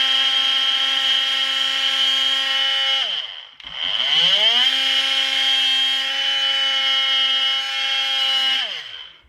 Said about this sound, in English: a couple more spots down through here with the plunge cutter, and I think we can get that off